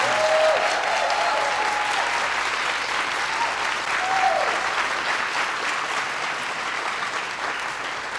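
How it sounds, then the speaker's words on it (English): A large audience applauds the President and First Lady at an event, strong continuous clapping that holds steady and tapers gently, with a few faint cheers and whistles above it. "give a round of applause for the President and the First Lady of the United States of America"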